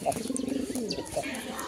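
A pair of pigeons at a bustling pigeon market, with a few soft coos and calls rising briefly over steady crowd chatter and nearby talking voices.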